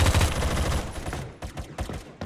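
M4A1 rifle firing in a video game, a loud burst of rapid automatic shots at the start followed by a few sharper separate bursts, with no voices over it.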